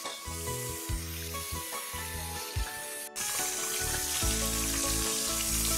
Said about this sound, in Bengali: অনেকটা মাছ ভেজে ফেলেছি